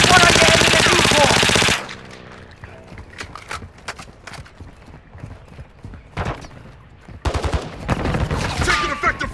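Automatic gunfire rattles in a Call of Duty Warzone 2.0 DMZ match, a loud sustained burst at the start followed by scattered sharp shots and bursts of varying distance, with a second heavy burst near the end.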